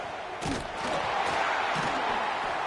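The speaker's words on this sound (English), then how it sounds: "It's early, but this crowd is fired up. Listen to this noise here." A football stadium crowd roars early in a game, a dense, sustained wall of cheering and noise heard from a distance, with a few thuds on top.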